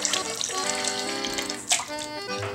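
Lukewarm water running from a tap into a sink filled for washing wool with a little soap, a loud, close, steady splashing stream with one brief surge partway through.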